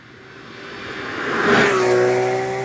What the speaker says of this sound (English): A scream of an engine that has so much character and texture